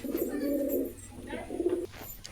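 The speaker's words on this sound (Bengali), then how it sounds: "সবগুলো গিরিবাজ কবুতর।" Giribaz pigeons give low, soft coos nearby, two rolling phrases with a short pause between them, set against quiet background noise.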